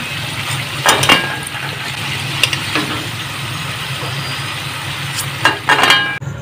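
Homemade samosas (singara) fry in hot oil in a village kitchen, a steady broadband sizzle running throughout with a few brief clinks and louder bursts as pieces are moved.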